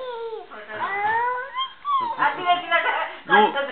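A voice imitates a dog, with whining, howl-like yelps and short bark-like bursts in an uneven run of close, fairly loud calls.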